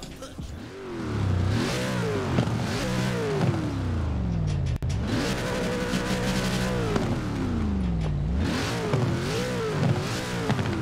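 A Ford Transit van tuned to nearly 1000 horsepower in the racing game Forza Horizon 4 revs hard in repeated rising and falling surges, loud and continuous, with a drift setup.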